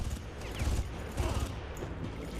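Rapid bursts of turret gunfire in the PC shooter Far Cry, dense and rattling with heavy low-end thumps, continuous across the whole stretch with no voices.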